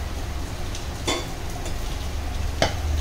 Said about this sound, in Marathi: आता फोडणी देणार आहोत आपण